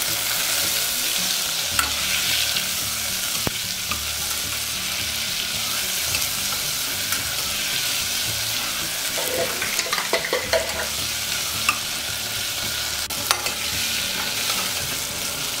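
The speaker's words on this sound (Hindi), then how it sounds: "आलू अच्छी तरह से फ्राई हो गया" Potatoes frying in a pan with green chili and tomato, a loud continuous sizzle with scattered scraping stir strokes, close up and steady for the whole stretch, no one speaking.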